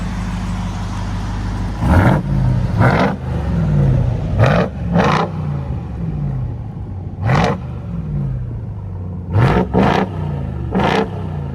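A 2022 Ram 4x4 TRX pickup engine fitted with Flowmaster Outlaw exhaust revs hard in a series of loud, close throttle blips, each surge rising and falling back to a deep rumbling idle between them.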